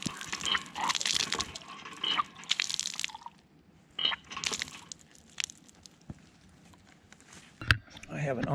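Hand water pump in a park being worked in irregular bursts, water splashing and gushing out in uneven spurts with short pauses between strokes, fairly close.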